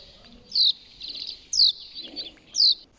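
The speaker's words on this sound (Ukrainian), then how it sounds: "Ось ми з вами прослухали, як співають різні пташки" Three short, bright bird calls at even intervals, each a quick high chirp, standing out over a quiet background.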